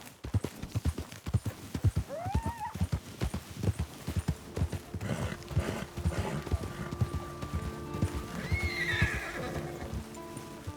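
A draft horse in Red Dead Redemption 2 clops along with steady, regular hoofbeats and gives two clear neighs, one early and one later, heard alone at moderate distance without talk.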